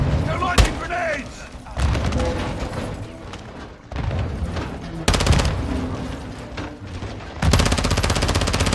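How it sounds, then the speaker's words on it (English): Gunfire and grenade launcher shots in a Call of Duty: Modern Warfare campaign firefight at a tree line, with sustained automatic fire, sharp bangs and thuds in waves, mixed under shouting voices. "They're launching grenades!"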